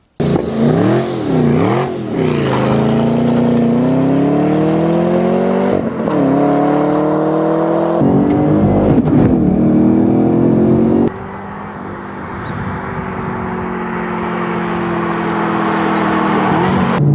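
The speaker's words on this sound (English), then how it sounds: "These are real exhaust and they make a really good noise." A 2012 Chevrolet Camaro ZL1's exhaust roars loudly as the engine revs up and down several times, then settles into a lower, steady drone.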